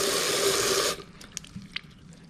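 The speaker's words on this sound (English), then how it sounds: "the water rushing through here causes that low pressure to pull air in to the tube" Water rushes loudly through a laboratory water aspirator for about a second, a steady broadband hiss that cuts off abruptly, leaving faint drips and small trickles afterward.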